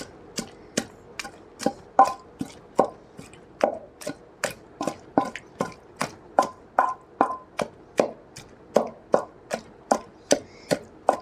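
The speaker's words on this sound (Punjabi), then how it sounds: "ਕੁੰਡੀ 'ਚ ਕੁੱਟ ਕੇ ਦੇਖਿਓ ਕਿੰਨੀ ਜ਼ਿਆਦਾ ਵਧੀਆ ਚਟਨੀ ਬਣੂਗੀ" Chibbar (kachri) chutney being pounded by hand in a kunda mortar, a steady run of about thirty sharp, close thuds at a regular beat, heard alone with no talk.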